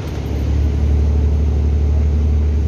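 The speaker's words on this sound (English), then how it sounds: "Hear the engine." A bus engine idles with a steady low rumble and hum, swelling slightly at the start then holding constant and fairly loud, with no talking.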